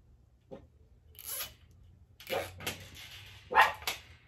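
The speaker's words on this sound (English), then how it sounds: "What are you barking at?" A few scattered barks from a dog, sharp and fairly faint, separated by pauses against a quiet background.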